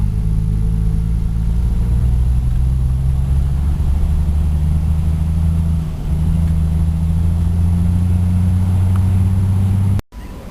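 A 1953 Pontiac engine runs steadily at a low, even idle, a deep rumbling drone lasting about ten seconds with no voices, then cutting off abruptly near the end.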